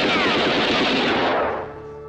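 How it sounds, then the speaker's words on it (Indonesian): Rapid machine-gun burst in a scene from the G30S PKI film, loud, dense automatic fire close up that cuts off and fades away near the end. "Ahmad Yani yang mencoba melawan ditembak dan mati di tempat"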